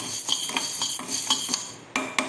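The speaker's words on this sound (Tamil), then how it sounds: "ஒரு சின்ன கடாய் எடுத்துக்கினேன் ஸ்டவ் சின்னது பண்ணிக்கங்க சிம்மிலேயே இது கொஞ்ச நேரம் செவக்க வறுத்துக்கலாம்" Garlic dry-roasts on low flame in a small kadai, stirred with a metal spoon that clinks and scrapes against the pan in a quick, regular rhythm, close and fairly clear.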